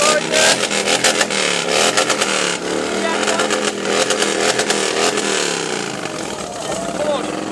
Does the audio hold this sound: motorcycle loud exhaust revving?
yes